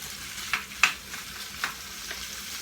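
A small portion of canned Spam frying in a pan, a soft continuous sizzle with a few sharp spatter pops and light stirring clicks, close and without talk.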